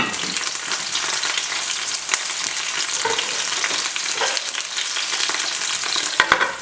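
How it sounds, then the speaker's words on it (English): Frozen chicken piccata thawing in a covered skillet over low heat, loud and continuous frying hiss with grease popping throughout and a few sharper pops near the end, no voices. "the popping from the grease popping everywhere"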